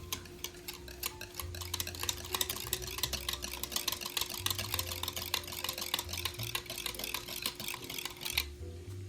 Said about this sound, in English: 3 tablespoons of mayonnaise, 3 tablespoons, of pickle juice. Mix this up.